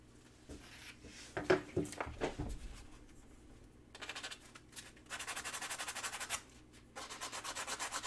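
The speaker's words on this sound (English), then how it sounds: "So I'm going to grab a sanding sponge." A sanding sponge rubs against a surface in quick back-and-forth scrubbing strokes, first a few scattered passes and then sustained rhythmic bursts, close but fairly quiet.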